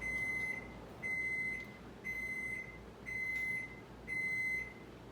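Oven beeping after preheating to 375 degrees, five evenly spaced high electronic tones about a second apart, each held for roughly half a second, clear and close over faint room hum.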